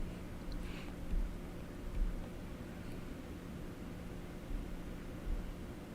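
A chiptune synthesizer emits steady white noise, a dense even hiss with a few soft low thumps, holding at a moderate level with no voices.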